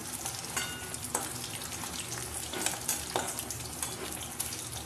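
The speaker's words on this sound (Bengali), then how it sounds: "মাছ ভাজা প্রায় হয়ে এসছে" Fish fries in oil in a pan, a steady dense crackling hiss with occasional louder pops and scrapes, close and continuous with no talking.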